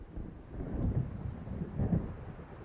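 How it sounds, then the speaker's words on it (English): Low, rolling thunder from an approaching storm in Alan Wake rumbles in two soft swells, with wind noise underneath. "It seems there's a storm coming."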